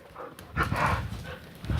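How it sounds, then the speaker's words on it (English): Puppies scuffling and play-fighting at close range, with short yelps and growly bursts in a brief, busy tussle. "Hey, puppy dog, oh, puppy."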